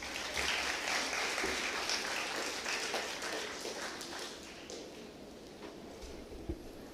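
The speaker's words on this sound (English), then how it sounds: "Can we all welcome her with a huge round of applause?" A room of conference attendees at a sustainable development goals event gives a warm round of applause to welcome a presenter, the clapping steady and full before thinning slightly.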